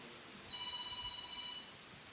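A single telephone rings in a steady electronic tone for about a second in a quiet hall during a Hindi church sermon, with faint room noise around it and no one speaking.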